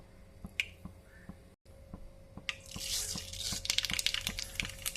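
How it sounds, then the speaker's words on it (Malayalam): Mustard seeds crackle in hot sesame oil for a garlic pickle, with sharp close pops and snaps building into a dense, busy spatter over the second half. "ഇനി നമുക്ക് അതിലോട്ട് ആവശ്യമുള്ള കടുക് ഇട്ട് കൊടുക്കാം"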